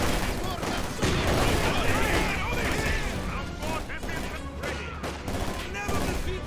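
Dense, continuous rattle of gunfire and explosions from a war video game set on the Russian front, rolling without letup under shouted in-game voice lines.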